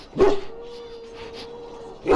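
An injured dog in the game Dragon Age: Origins, at the Ostagar camp, barks loudly and close at the start, then a thin, steady whine holds before a second bark at the end.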